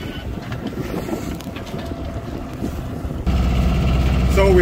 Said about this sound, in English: So we've been motoring south now for about 30 minutes.